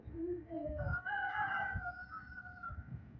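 A rooster crows once nearby, a drawn-out, rising and falling call, with faint background noise.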